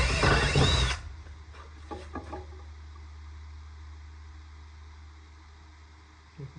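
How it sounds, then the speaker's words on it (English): A power drill bores into a 2x10 wooden board, starting with a loud, close burst of whining and grinding, then giving way to a few softer knocks and scrapes over a low steady hum. "I'm going to try and drill these as straight"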